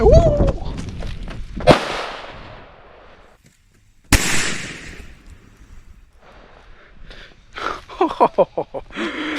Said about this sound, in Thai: ประทัดแบบหนึ่งบาทครับผม